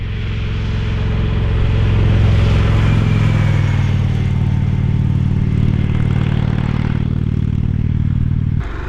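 2021 Harley-Davidson Sportster S motorcycle engine running steadily while riding, a loud continuous low rumble with wind noise, holding constant before dropping off abruptly near the end.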